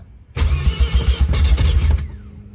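A Mazda FC RX-7 with a swapped Turbo II rotary engine bursts to life close by, loud and rough, with a brief churning roar that lasts under two seconds before it dies away.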